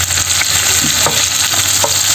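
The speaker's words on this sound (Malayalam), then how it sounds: "ഞാൻ ഈ ഫിഷ് വറുക്കണത്" Steady oily sizzling of fish frying in oil, coated with black pepper, with faint clinks and scrapes of stirring over a constant hiss.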